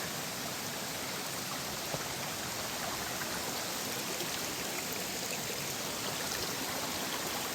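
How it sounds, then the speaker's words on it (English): Creek water flows steadily at a bush creek crossing on the Tooloona Creek Circuit, a continuous even wash of broadband rushing with no breaks, fairly quiet and without voices. "First creek crossing, apart from Picnic Rock."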